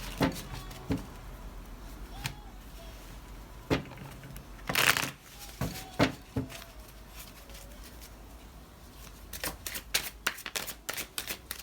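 A deck of cards is shuffled in a quick ruffling burst near the middle, surrounded by scattered clicks and taps of cards being handled close by.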